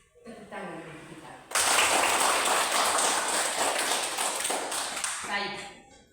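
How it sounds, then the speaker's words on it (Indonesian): Class participants break into applause, a dense burst of many hands clapping that starts suddenly after a short spoken lead-in and carries on loudly for several seconds before fading, with talk faintly underneath. "Tepuk tangan bagi kita."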